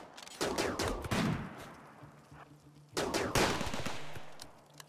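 Sniper rifle fire in a RimWorld colony skirmish comes as a few sharp, fairly faint reports in two clusters, each trailing off into a short echo, with no talk over them.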